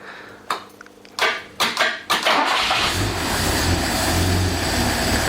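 A Fiat 130 engine cranks in several short bursts, then catches and settles into a loud, steady idle close by, with no voices over it.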